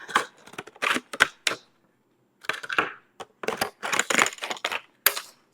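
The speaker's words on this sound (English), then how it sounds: "it's gonna be to cut this harder plastic in little bits" Hard plastic waste is cut into little bits for eco-bricks, making loud, close crunching and snapping cuts in irregular bursts with a short quiet gap partway through, with no talk over them.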